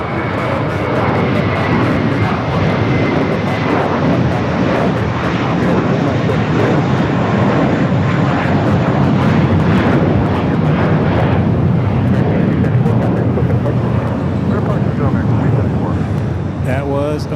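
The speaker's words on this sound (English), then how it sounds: "That was American Flight 274 going to JFK on an Airbus A321, 11 years old" An 11-year-old American Airlines Airbus A321 takes off from LAX bound for JFK, a loud, sustained jet roar that fills the whole stretch with steady broadband rumble, with faint radio chatter underneath.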